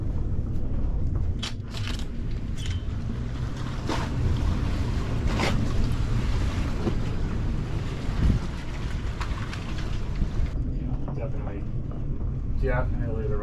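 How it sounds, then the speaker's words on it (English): Gusting wind roars over a boat anchored in a hurricane hole during a hurricane, with waves slapping the hull in a steady, loud wash close to the microphone, and voices talking briefly over it. "The wind is picking up, or the waves are picking up."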